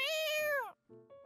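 A voice in Genshin Impact mimics a cat with one drawn-out, bright meow, followed by a couple of short, softer vocal bits after a brief pause, close and clear.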